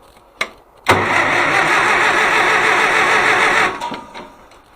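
Farmall 400 tractor engine cranking and catching, with a click, then a loud close roar that holds for a few seconds before dying down.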